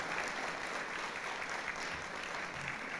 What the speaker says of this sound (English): One big round of applause for all of that.